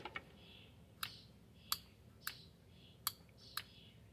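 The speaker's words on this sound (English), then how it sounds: "I'm going to get you down there right next to the solenoid. It's clicking." Overdrive solenoid on a Triumph Spitfire 1500, heard up close as a series of crisp, irregular clicks spaced roughly half a second to a second apart over a quiet background.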